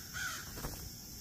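A single faint caw from a crow sounds outdoors, distant and brief, over a steady background hiss.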